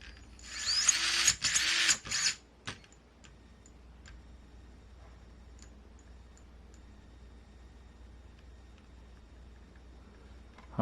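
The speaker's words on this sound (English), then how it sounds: "The motor works as well." The electric motor of an Axial Capra UTB18 RC crawler whirs in a couple of loud, short bursts. A few faint ticks follow in near silence.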